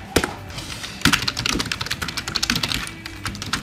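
Fast bursts of typing on a computer keyboard while entering a Wi-Fi network name, close and crisp, continuous key clicks with brief pauses.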